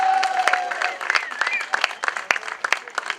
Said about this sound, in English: Come on, a little louder round of applause